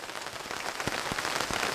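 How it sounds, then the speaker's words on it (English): Steady rain patters on a surface at a January campsite in Oklahoma, a continuous hiss broken by a few louder drop hits, heard close and alone. "I'm going to just enjoy this rain"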